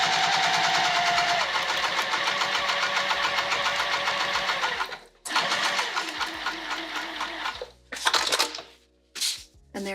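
Sewing machine stitching a bag, a rapid rhythmic mechanical whir running steadily for about five seconds, then a pause and several shorter bursts of stitching with brief stops between.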